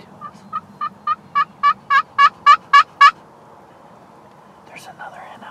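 A wild turkey hen yelps in a rising series of about ten clear calls, growing louder, followed by a few fainter clucks in a quiet spring outdoor setting.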